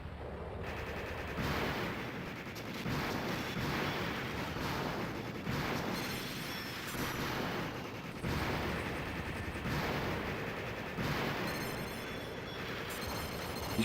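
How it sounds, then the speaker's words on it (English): Bombs being blown up in a video game, a dense, loud barrage of overlapping blasts and rapid bangs that continues almost unbroken for the whole stretch. "You got to blow up the bombs that are being dropped as well."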